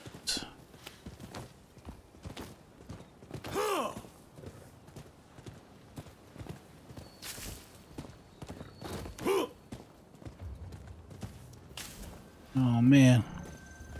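Horse hooves clip-clop faintly during riding in the Rise of the Ronin video game, a soft steady walking rhythm under game ambience, with a brief louder burst near the end.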